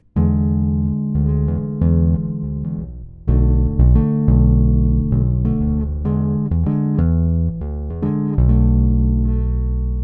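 A bass plays a string of bright, ringing tapped chords in a steady rhythm, loud and close with brief gaps between phrases.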